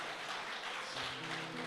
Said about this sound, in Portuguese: Glorifica o Senhor através das palmas